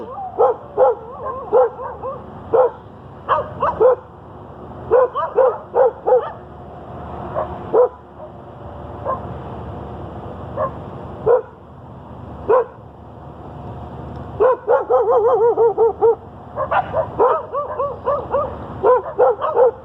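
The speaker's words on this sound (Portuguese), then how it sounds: "não liga para esses cachorros aí gritando aí" Several dogs bark repeatedly in loud, clustered bursts of sharp yips separated by brief pauses, close by and sustained throughout, with a faint voice underneath at times.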